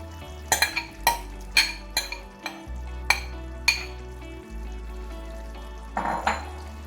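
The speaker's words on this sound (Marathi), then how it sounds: "जे आता आपण हे उकडलेले काळे वाटाणे जे आहेत ते कुकरला लावून मिक्सरला लावून घेतले होते ते आता आपण ह्यात ओतायचंय" Ground boiled black peas are stirred into masala in a pan, with a spoon clinking against the metal in a quick run of rhythmic knocks over a faint low sizzle, heard close.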